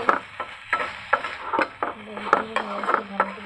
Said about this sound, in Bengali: আলুটা আমি নেড়ে দিচ্ছি